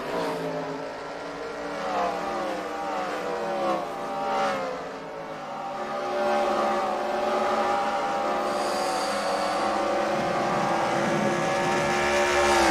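Dirt track race cars at the Knoxville Nationals roar around the track, several engines layered in a continuous loud howl whose pitch sweeps up and down as cars pass and accelerate.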